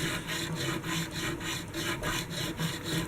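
A 150 grit diamond file works back and forth across leveled guitar frets on an SG, giving a rhythmic rasping scrape, with about eight even strokes in quick succession, close and steady, and no voices.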